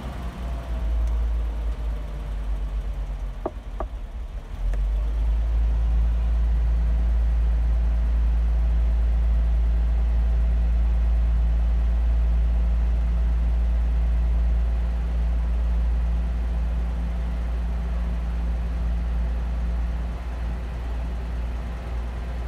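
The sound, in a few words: Toyota Land Cruiser 45 2F engine running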